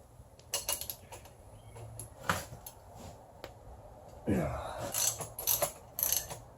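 A wrench ratchets on a seized nut after penetrating fluid has soaked in, giving bursts of quick metallic clicks and pawl rattles plus a short creak, close and moderately loud against a steady low hum with no talking.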